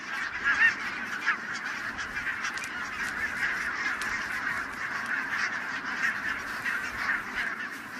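A large flock of Greenland geese wintering on farmland on a Scottish island honks continuously at a distance, many overlapping calls forming a dense, steady chorus.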